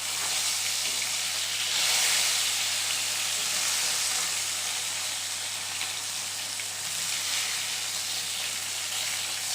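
Steady sizzling of a katla fish in hot oil after being turned over, a dense hiss and crackle close by that swells briefly early on and then settles into an even, continuous fry with no voices.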